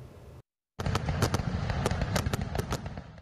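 Consumer fireworks bursting in quick succession after a brief silence, a dense run of sharp cracks and pops with crackling tails, loud and close with no talk.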